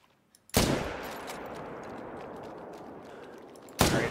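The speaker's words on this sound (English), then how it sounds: "Alright, I'll just shoot one." Rifle shots in a deer-hunting video game: a single loud, sharp blast with a long rolling tail fading over about three seconds, then a second blast right at the end.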